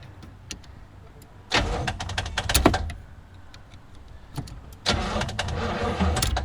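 An abandoned Buick big block engine being cranked by the starter, two bursts of churning, uneven cranking, each lasting over a second, with quieter pauses and clicks between them.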